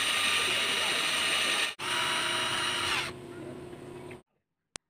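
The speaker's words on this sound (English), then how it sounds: "Drill hole right in the middle." A power drill boring a hole through the middle of a Japanese wooden joint, a loud steady whine for about three seconds, briefly interrupted, then easing to a lower hum before stopping, with a sharp tap at the end.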